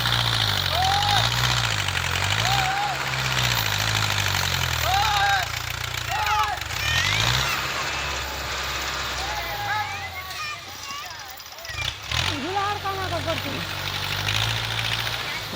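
A tractor engine runs in a steady, low rumbling drone outdoors, with voices talking over it much of the time and a sharp clatter near the end.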